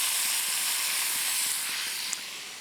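Vegetables return to a hot pan of Lombardy-style stewed beef and sizzle with a loud, steady hiss that fades slightly, with a small clink near the end.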